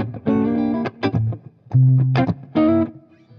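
Electric guitar through a PRS 30 amplifier plays ninth chords in a clean rhythm tone, with several loud strummed chord hits and short pauses between them, close and with no voice.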